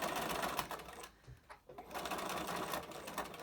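Sewing machine top stitching a fabric mask, running in quick, close mechanical rattles with a brief pause midway before resuming, soft and near.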